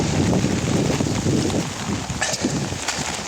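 Strong storm wind in Bosnia roars and buffets the microphone with a dense, rushing noise, gusting unevenly throughout.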